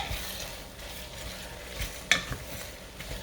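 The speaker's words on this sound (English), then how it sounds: "So when we put our greens in here" Greens being stirred into a cooking pot with a utensil, a soft close scraping and sizzling swirl with a brief clink partway through, no talking.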